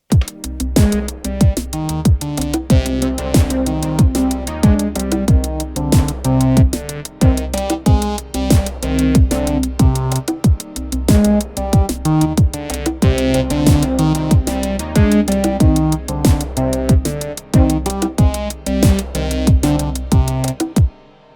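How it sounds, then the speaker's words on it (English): A dense, steady Roland MC-707 synth groove through phaser, chorus and reverb, with swirling, sweeping tone and a wide, washy tail; bright rhythmic notes pulse continuously at a fairly loud level. "an insert effect, a phaser, and then I even added some chorus and some reverb"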